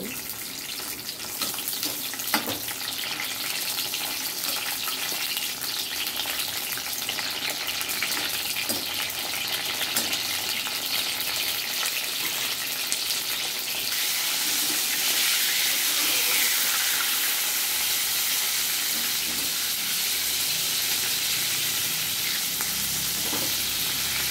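Eggplant pieces frying in hot oil for vankaya curry, a steady dense sizzle and crackle that continues alone and grows slightly louder and brighter partway through.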